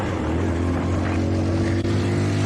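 Motorbike ridden fast along a road, a loud steady engine drone mixed with heavy wind rush, close and continuous throughout, with one brief dip near the end.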